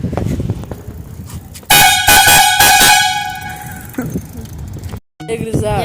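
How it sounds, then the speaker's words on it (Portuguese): A homemade horn built from a fire extinguisher gives a loud, sustained, brassy blast of about a second, then a few shorter honks, set against outdoor background noise. "Hoje vamos gravar aqui, ó, um vídeo com a buzina. A gente fez de extintor."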